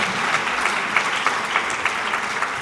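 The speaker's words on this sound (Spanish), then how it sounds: "va un caluroso aplauso para Marcelino Requejo, por favor." Warm audience applause after a talk, a steady dense patter of many hands clapping at moderate distance, continuous through the clip with no speech over it.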